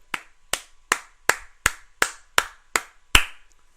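One person claps about nine times in an even, moderately paced rhythm. The crisp, close claps are isolated with short silences between them.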